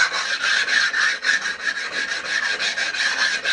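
Coarse sandpaper glued to a piece of MDF rubbed briskly back and forth over a soft steel lathe tool rest, a close, steady scratchy rasping in quick repeated strokes with no talk.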